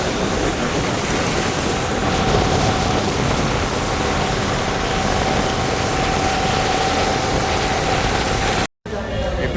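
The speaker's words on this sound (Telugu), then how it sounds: "బయట అయితే ఫుల్ వాన పడుతుంది." Heavy rain pours outside a cinema hall on a first-day second-show night, a dense, loud, steady hiss that continues unbroken for several seconds.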